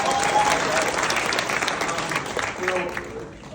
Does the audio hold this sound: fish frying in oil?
no